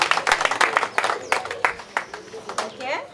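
Small audience at a legislative theatre session clapping for a group, uneven individual claps close by, thinning out toward the end with some voices.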